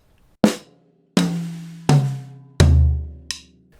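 A simple beginner drum fill moves from snare down through high, middle and low toms, five sharp hits in sequence, each lower and boomier than the last, with the final tom ringing out, played close and alone.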